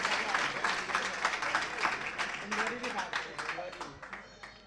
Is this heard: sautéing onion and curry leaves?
no